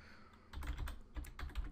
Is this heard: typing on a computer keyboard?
yes